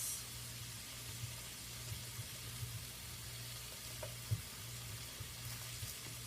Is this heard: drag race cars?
no